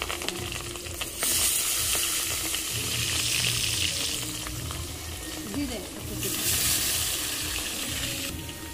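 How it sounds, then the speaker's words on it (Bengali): Meat sizzles in a pan at a rooftop picnic, a continuous close frying hiss that swells in bursts as it is stirred. "আজকে আমার দাদা মাংসটা রান্না করবে।"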